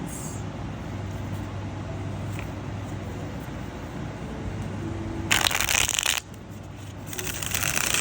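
Tarot cards shuffled close by in two quick riffling bursts against a quiet, hissy room background.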